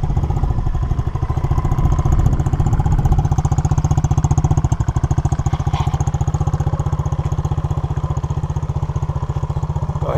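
An SSR Motorsport 110cc dirt bike engine runs steadily and close by, a loud, buzzy single-cylinder drone with a rapid, even pulse and slight rises in revs, with no talk over it.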